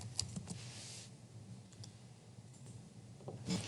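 Mouse clicks while drawing with the tape measure tool in SketchUp, a few sharp, quiet clicks spaced irregularly over a low background hum, with no talking.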